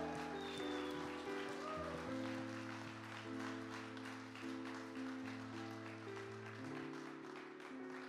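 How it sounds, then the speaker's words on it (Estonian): Church congregation applauding for Jesus at a summer gathering, sustained clapping from a crowd mixed with held organ or keyboard chords underneath, fairly faint and continuous. "Anname Jeesusele vägeva aplausi."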